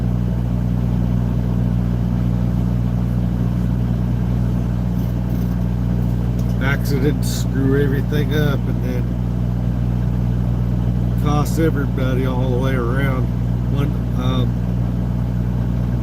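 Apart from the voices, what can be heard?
semi truck driving to a truck stop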